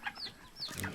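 Chickens clucking while pecking at scattered feed, a few short clucks rising and falling over one second at moderate distance with no talk.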